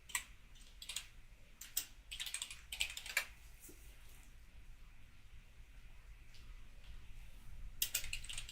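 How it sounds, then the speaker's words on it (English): Rapid typing on a computer keyboard, close and crisp, with irregular bursts of clicky keystrokes separated by short pauses and a final flurry near the end. "What is going on with this stupid keyboard?"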